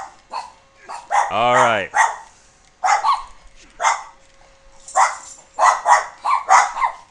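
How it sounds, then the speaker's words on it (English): Pet dogs at home giving a few excited barks and a drawn-out whining yelp, close by, interleaved with someone talking. "apparently my dogs are feeling this is quite exciting"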